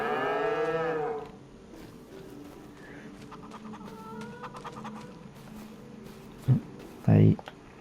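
A cow's long loud moo opens, then quieter barnyard chatter of chickens clucking follows with a couple of sharp thumps near the end, on a farm in Farming Simulator 25.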